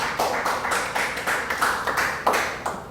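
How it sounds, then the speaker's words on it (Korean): A church congregation at a Wednesday Korean worship service claps steadily in praise of God. The claps are fairly even and rhythmic, loud and close, with little talking. "하나님께 영광의 박수를."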